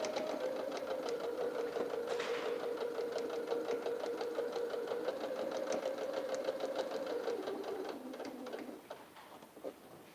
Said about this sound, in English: sewing over these pins, so I am going to slow right down once I get to that part where the pin is.